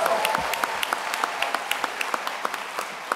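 Graduates and guests at a 2017 Penn Foster graduation ceremony applaud in a dense, steady round of clapping that holds evenly throughout, with sharper individual claps standing out above the crowd.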